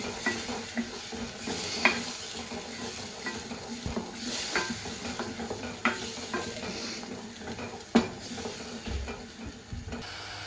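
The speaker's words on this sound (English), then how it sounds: "Now you just need to mix it until it's well combined." A spice mixture for rajma curry is stirred in a pan, with repeated scraping and soft clinks of the utensil against the metal under a faint sizzle, at an irregular rhythm and close by.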